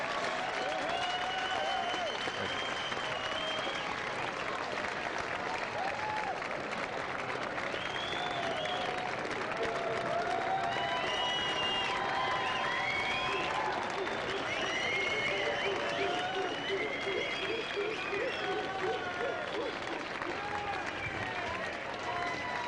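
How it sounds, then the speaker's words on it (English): A large crowd at the 1991 Los Angeles Pride Parade applauds and cheers continuously, a dense wash of clapping and whoops, with voices calling out and chattering throughout. "Let's give them a round of applause when they come by."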